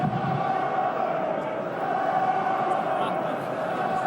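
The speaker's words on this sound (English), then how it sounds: "Just listen to that sports ground and the crowd" Stadium crowd at a rugby match between Connacht and Ospreys, a steady loud wall of massed voices roaring and urging their team on, continuous throughout with no distinct breaks.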